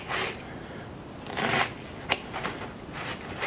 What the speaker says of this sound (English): I'm just going to stand it up on edge, make some long slices this way